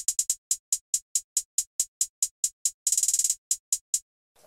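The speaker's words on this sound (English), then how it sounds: "I have this hi-hat here." Crisp, bright closed hi-hat hits from a trap drum beat tick in a steady, quick pattern, broken midway by a rapid roll of fast repeated hits, then resuming the even pulse. They play alone, with no voices.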